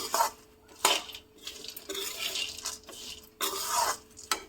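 Dry dates and coconut being dry-roasted in a pan, with loud scraping and stirring strokes of a spoon against the metal in uneven bursts, close and without speech.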